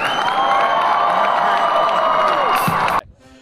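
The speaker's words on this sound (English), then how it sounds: "One more big round of applause." Fans in a convention panel audience at C2E2 2020 applaud and cheer loudly for several seconds, a dense wash of clapping and whoops that cuts off abruptly near the end, leaving faint room noise.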